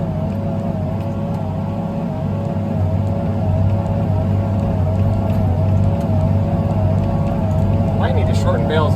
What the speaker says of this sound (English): So we'll try one more gear and see how the tractor handles it.